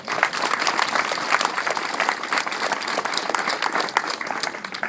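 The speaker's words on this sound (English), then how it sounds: "I'd like to ask everyone here to give you one more round of applause" A crowd at a charity walk event gives a sustained round of applause for a transplant recipient, dense steady clapping from many hands throughout with faint crowd murmur.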